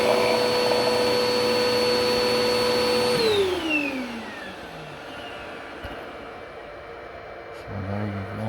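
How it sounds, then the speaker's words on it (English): A vacuum cleaner running off a Dabbsson DBS2300 power station gives a loud, steady motor whine, then switches off and winds down in a falling glide to a quiet hum. "actually the vacuum"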